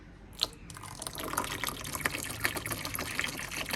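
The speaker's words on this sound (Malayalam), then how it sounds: "നമുക്കിനി ഇതിലേക്ക് ഏഴ് ലിറ്റർ വെള്ളം ഒഴിച്ചു കൊടുക്കാം" Seven litres of water splash and trickle steadily into a container while making homemade dish wash liquid, a soft continuous pouring with a few brighter drips, fairly quiet and with no voices.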